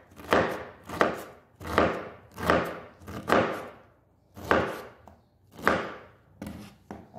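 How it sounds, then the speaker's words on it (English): A knife chopping a pineapple into small pieces on a cutting board, eight or so distinct, evenly paced cuts, close and fairly quiet, with no talk. "I'll just chop it small pieces."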